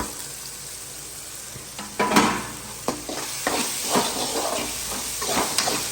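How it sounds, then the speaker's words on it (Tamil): Crushed garlic tossed into sautéing tomatoes and onions for a fish curry, a steady soft sizzle in a pan broken by repeated stirring scrapes and clatters of a spoon, close and moderately quiet. "தக்காளி வெங்காயம் கொஞ்சம் நல்லா வதங்கிட்டு இப்போ வந்து நச்சு வச்ச வெள்ளைப்பூடு போட்டுக்குவோம்."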